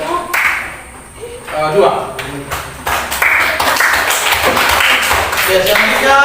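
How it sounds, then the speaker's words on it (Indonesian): A classroom group gives a student group hand applause, a dense patter of many claps building and holding through the second half, mixed with a voice speaking over it. "Silakan berikan aplaus buat teman kalian dari kelompok"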